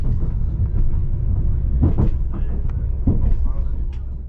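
A Northern Class 195 diesel commuter train rolling along track on the Calder Valley Line, a loud, rumbling low roar with a few sharp jolts and knocks from the rough ride.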